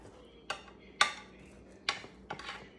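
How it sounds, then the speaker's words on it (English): A knife or spatula strikes and scrapes into a freshly baked breakfast casserole with a crisp crust, straight from the oven in its baking dish: four sharp, separate clinks and scrapes spaced across a quiet background. "I'm just gonna cut right in here and get some out"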